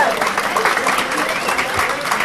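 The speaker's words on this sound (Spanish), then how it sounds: "Aplauso," Audience applause in a lecture hall during a talk on the United States–Mexico–Canada trade agreement, steady and fairly loud, a dense wash of clapping with no speech over it.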